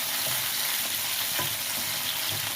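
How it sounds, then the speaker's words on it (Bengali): Chopped tomato frying in oil with nigella seeds is stirred, giving a steady bright sizzle with soft scraping strokes throughout, close and continuous, with no talking. "ওই একই তেলে দিয়ে দেব কালো জিরে, এবার দেব টমেটো কুচি, ভালো করে নাড়াচাড়া করে নেব"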